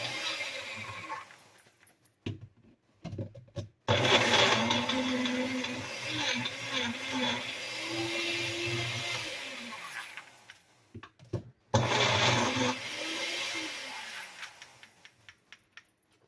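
A countertop blender whirring through frozen fruit for a collagen smoothie, two loud grinding runs separated by brief stops, the motor pitch wavering as the load shifts.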